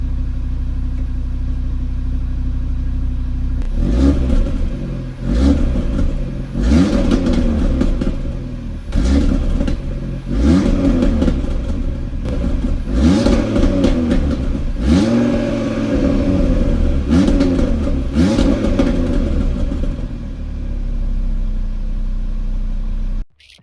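A car engine with its exhaust closed idles with a low rumble, then revs hard repeatedly in loud, rising and falling bursts for about fifteen seconds before settling back to idle, recorded up close.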